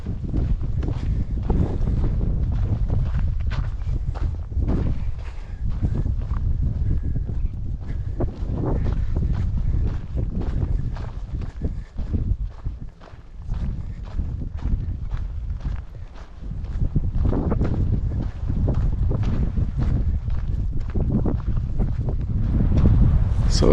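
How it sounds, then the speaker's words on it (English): Gusty wind buffets the microphone on the Panorama Trail in Kodachrome Basin State Park, Utah, a loud continuous low rumble with surging gusts and no pause throughout. "we're getting some serious wind"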